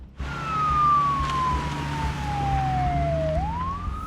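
A fire engine siren on a sinkhole call wails in one long, loud descending sweep, then turns upward again near the end, with low vehicle rumble beneath.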